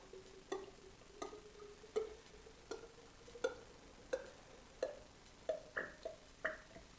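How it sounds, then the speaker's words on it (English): Fork oil pours from a bottle into a Suzuki DRZ 400E fork tube: about ten quiet, evenly spaced glugs that rise in pitch as it fills, with no talking. "just filling the oil back up"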